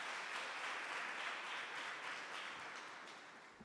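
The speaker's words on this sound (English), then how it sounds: "Let's give her a round of applause when she's coming back." An audience at an exhibition launch event applauds the council chairperson, a soft, distant wash of dense clapping that holds steady and then gradually fades away toward the end.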